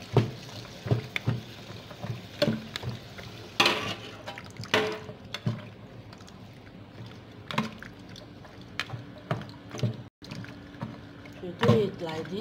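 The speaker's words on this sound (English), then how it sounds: "I'll add water to wash and sieve." Water sloshing and squishing as palm fruit pulp is washed by hand in a mortar for banga soup, with intermittent splashes and wet squelches, and a voice talking in between.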